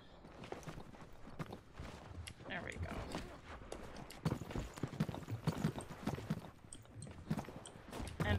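Rapid footsteps from the video game Hyperscape, loud and dense, thudding steadily through the clip under and between a player's talk.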